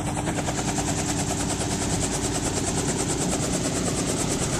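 A helicopter runs close by, a loud steady rotor thump and engine whine filling the whole stretch without pause.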